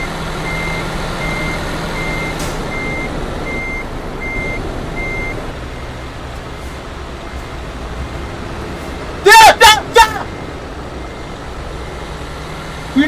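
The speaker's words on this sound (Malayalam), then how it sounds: "ഇത് റിവേഴ്സിലാണ് കിടക്കണേ" Truck in reverse gear, a steady engine drone with a quick burst of three loud reversing beeps near the end, close by.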